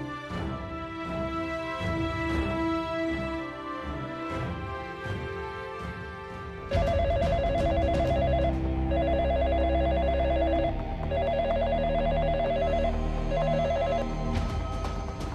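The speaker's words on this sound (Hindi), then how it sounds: "संगीत, यूं अचानक तुमने मुझे क्यों फोन किया?" An electronic telephone ring repeats in steady bursts over a loud, busy musical background in a Hindi TV drama.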